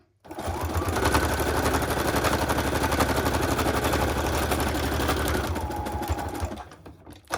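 A sewing machine stitches continuously while chain piecing on paper with an almost empty bobbin. It gives a steady, rapid, close mechanical whirring and clatter for about seven seconds with no talk, then slows slightly near the end.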